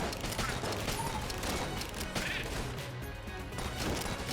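Flare gun firing in Enter the Gungeon, with a dense stream of rapid pops and bursts running steadily throughout, layered over busy game noise and occasional chirps.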